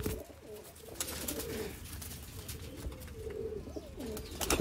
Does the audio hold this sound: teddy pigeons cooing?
yes